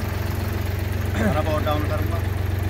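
A Swaraj 855 tractor fitted with a new-style cultivator idles with a steady low throbbing rumble, while someone talks over the engine in the foreground.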